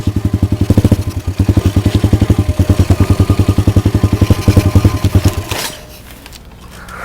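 A pit bike's small single-cylinder engine chugs and sputters in a fast, loud, close rhythmic putter with the choke off, stumbling unevenly before it dies out near the end, leaving quieter rustling.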